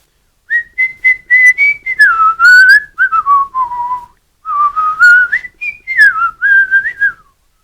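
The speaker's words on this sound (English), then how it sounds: "Can I whistle?" A person whistles a wandering melody alone, clear and close, with a short pause midway before the tune resumes.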